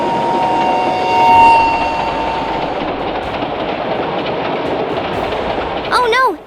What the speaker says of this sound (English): A train is coming!